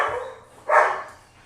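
A dog barks once indoors, a single fairly close, sharp bark in an otherwise quiet moment.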